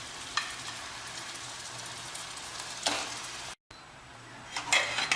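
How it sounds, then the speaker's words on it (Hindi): Mutton goes into a hot pan for Hyderabadi korma, bringing a steady close sizzle with sharp bursts as pieces land and a brief cutout before the frying resumes with scraping. "इसी के साथ हम इसमें मीट डाल देंगे।"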